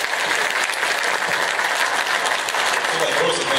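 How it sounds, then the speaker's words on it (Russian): Audience applause at a medical lecture, a dense continuous wash of clapping hands from a large crowd, steady and loud from start to finish. "Мы все аплодируем."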